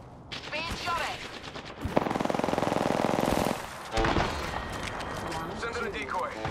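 Rapid bursts of automatic gunfire in a video game, a dense sustained volley mid-clip with scattered shots before and after, loud and close, with a voice talking over parts of it.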